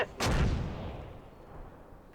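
A single artillery blast in the Close Combat war video game, a sharp boom followed by a long fading rumble, fairly distant and alone.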